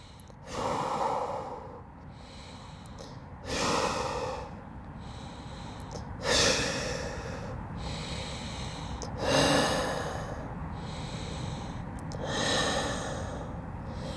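Deep, slow breaths during an Ashtanga yoga pose outdoors near the Golden Gate Bridge in San Francisco, five loud, drawn-out inhales and exhales spaced about three seconds apart, close to the mic with no talking.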